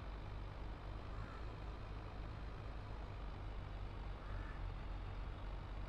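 A big JCB tractor in Farming Simulator 22 drives along a snowy road, its engine a steady, dense low rumble that barely changes, with no talking over it.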